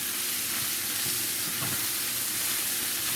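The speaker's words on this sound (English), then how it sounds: "And I'm going to give it another stir again." Ackee and saltfish with a pepper mixture sizzles steadily in a pan as it is stirred, a continuous close frying hiss with a soft scrape of the spoon and no talking.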